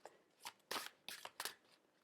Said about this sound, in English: I'm going to draw a card from the Oracle of Visions for you.